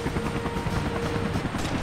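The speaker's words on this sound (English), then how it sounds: "It's an armed enemy helicopter." Armed enemy helicopter in the Time Crisis 4 shooting game, a steady throbbing rotor drone with a low hum that holds at constant loudness throughout, close and continuous with no talk over it.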